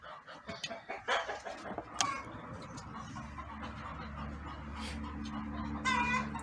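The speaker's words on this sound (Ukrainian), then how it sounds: "кури в мене кричать, несуться" Hens cluck and squawk in a series of sharp calls, then a low hum and steady background noise set in, with a few more cackles near the end.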